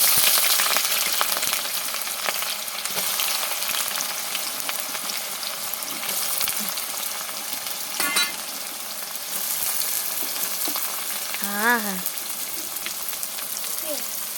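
Chicken fries in a pan with a steady, hissing sizzle throughout, broken by a few clinks and stirring sounds, with a brief voice near the end.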